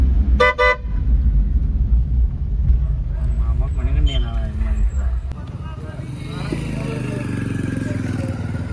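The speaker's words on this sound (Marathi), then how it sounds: "आता आम्हाला पुढं जाम लागलेला आहे" A car horn blasts near the start of a traffic jam over a steady rumble of idling engines and road traffic, with a voice talking nearby.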